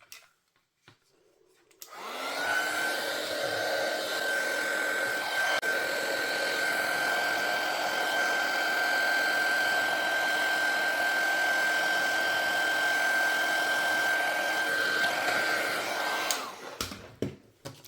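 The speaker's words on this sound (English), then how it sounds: "let's come back in there with that heat gun and just melt these" A heat gun melts embossing powder on black cardstock with a loud, steady blowing whir. It switches on after a click, runs unbroken for about fifteen seconds and then cuts off.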